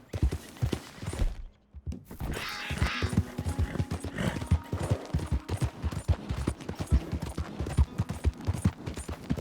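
Horse hooves clip-clopping in the Red Dead Redemption 2 video game: a fast, rhythmic run of hoof strikes close by, with scattered sharper bangs, like distant gunfire, mixed into the game soundscape.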